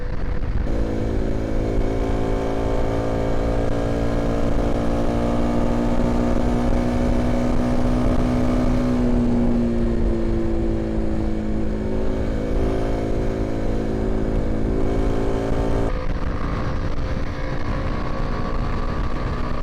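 A Kawasaki KLX 300 motorcycle ridden at full throttle around 72 to 73 mph, its engine a loud, steady, close drone whose pitch holds high, dips slightly midway, then climbs again, with no talk over it.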